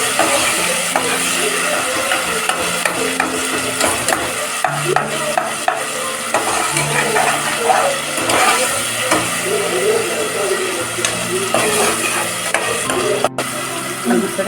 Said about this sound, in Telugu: 1 కప్పు మసాలా వేసుకొని దాంట్లో బాగా వేయించుకోవాలి.